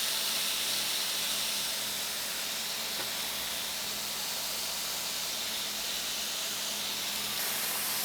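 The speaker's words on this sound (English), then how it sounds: "we gotta spread it out as fast as possible and let it seal and cook" Pork and chicken gyros meat searing in a very hot pan, a steady loud sizzling hiss that holds unbroken throughout, with no talk over it.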